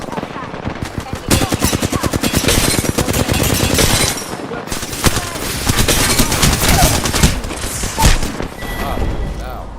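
Shooter video game combat with loud, rapid bursts of automatic gunfire in two long sustained volleys separated by a brief lull, with game voices occasionally speaking over the shooting.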